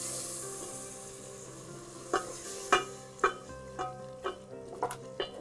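Meat and spices sauté in a pan, with a low steady sizzle and a series of sharp, evenly spaced scraping strokes as they are stirred, close and moderately quiet.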